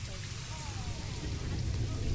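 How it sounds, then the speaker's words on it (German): Steady rain falls in the zoo-building video game Planet Zoo, a soft continuous patter that swells slightly toward the end. "Ich würde es auch gerne ohne Regen zeigen, aber gerade der Regen will gerade nicht aufhören."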